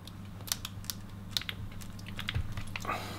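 A Haribo gummy candy rose is sliced with small, soft clicking and squishy cutting sounds, close and intermittent over a low steady hum.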